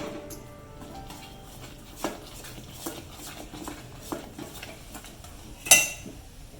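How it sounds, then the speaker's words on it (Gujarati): Adadiya pak mixture being stirred in a pan over medium heat, with scattered clinks and scrapes of a utensil against the metal at irregular intervals, one sharper knock near the end, fairly faint and close. "હવે એને સારી રીતે મિક્સ કરી લઈશું"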